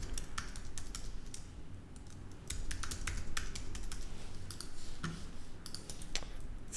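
Rapid clicking of a computer keyboard while text is typed into a design layout, a steady run of light key taps with brief pauses, close and fairly quiet.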